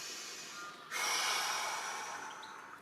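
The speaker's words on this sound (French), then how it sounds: "Et on souffle par la bouche." Forceful exhalations through the mouth during a vinyasa yoga flow, a loud, breathy rush that swells and holds for about two seconds after a quieter lead-in, close to the microphone.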